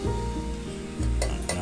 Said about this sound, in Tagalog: maglagay po tayo ng mantika sa kawali at igisa po natin ang bawang